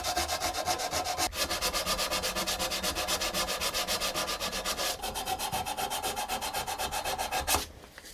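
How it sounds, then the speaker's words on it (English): Steady back-and-forth sanding scrapes across a chipped mirror frame, continuous and close, with brief pauses between runs of rhythmic rubbing strokes. "the first thing I'm going to do is give it a sand down"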